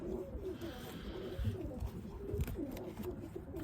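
Breeding pigeons in a loft keep up a dense, continuous murmur of low cooing with overlapping rolling calls, close and steady throughout.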